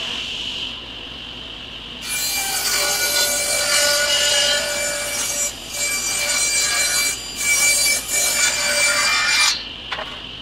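A 1x6 wood board is ripped lengthwise to 4 inches wide. After a quiet start, a loud, close, continuous cutting noise runs for several seconds, dipping briefly a few times, and stops near the end, with no talking.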